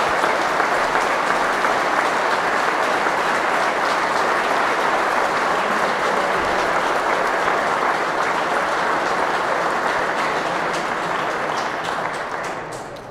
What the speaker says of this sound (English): I just want to give a round of applause to the winner, Robbie McCarthy.